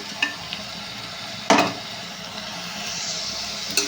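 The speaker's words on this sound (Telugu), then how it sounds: "ఉల్లిపాయలు గ్యాస్ మీద పెట్టానండి ఫ్రై చేస్తున్నాం వీటితో పాటు ఈ రొయ్యలు కూడా వేసేసుకోవాలి" Onions and prawns frying in oil in a pan on a gas stove: a continuous close sizzle punctuated by a few sharp scraping stirs, the loudest near the middle, and another toward the end.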